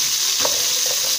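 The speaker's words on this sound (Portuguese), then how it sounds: "Veja que a carne já tá fritando aqui, ó." Chunks of meat sizzling in hot oil in a pan while being stirred, with a steady frying hiss and a couple of soft scraping stirs, no voices.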